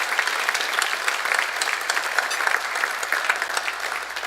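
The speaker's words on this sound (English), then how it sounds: "Let's give all of them a round of applause." An audience applauds at an air and space hall of fame award ceremony, a steady, dense wash of many hands clapping that holds evenly throughout, moderately distant and unbroken by speech.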